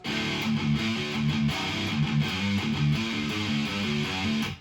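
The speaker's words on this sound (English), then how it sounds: "you're playing the note and then you're pulling off to the open" Distorted electric guitar in drop D tuning plays a quick repeating riff of picked notes pulled off to open strings, steady rhythm, loud and close with no voices.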